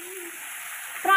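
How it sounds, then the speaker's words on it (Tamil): Prawns dropped into a pan of sautéed onions set off a steady close sizzle with a brighter burst at the very end. "இப்போ நம்ம ப்ரான் சேர்த்துக்கலாம்."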